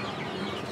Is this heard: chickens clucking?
yes